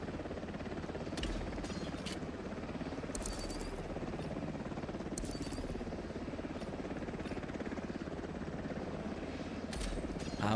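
A helicopter's steady, low rotor drone in the video game Delta Force fills the scene continuously at moderate volume, with faint clicks now and then.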